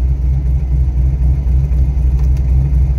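A supercharged V8 fitted with a large Texas Speed cam idles loudly and close by. Its low, rumbling, lopey note stays steady for the whole stretch.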